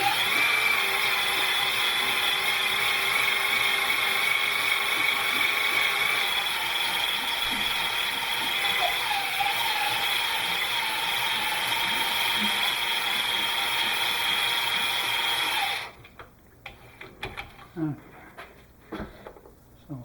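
A rigid hone works a McCulloch kart engine cylinder, giving a steady, loud, continuous mechanical whir and grind with a faint ratcheting texture, which cuts off abruptly near the end and leaves a few scattered clicks and handling knocks.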